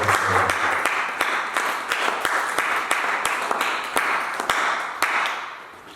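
A church congregation applauds in a steady, dense wave of clapping with sharp individual claps standing out, sustained for several seconds before easing slightly; a brief voice is heard at the start.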